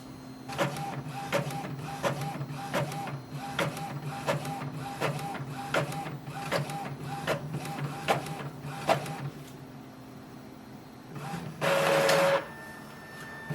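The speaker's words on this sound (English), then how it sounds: "So let's see if it's printing now or not." An Epson inkjet printer runs a copy job, its print head shuttling back and forth in a steady rhythm of clicks and whirs with a mechanical hum, followed by a brief louder feed noise near the end.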